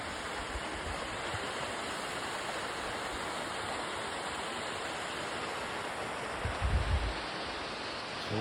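Hidden waterfall at Fairmont Hot Springs in BC, a steady, broadband rush of falling water heard up close, with a brief low rumble near the end.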